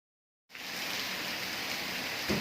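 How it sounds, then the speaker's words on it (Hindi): Heavy monsoon rain begins abruptly after a moment of silence, then pours as a dense, steady hiss of drops close by, with no voices. "और फिर बारिश बहुत ज़्यादा तेज़ होती है।"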